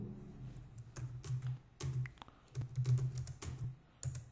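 Keys clatter on a computer keyboard while C code is typed, in irregular bursts of taps with short pauses, close and fairly quiet.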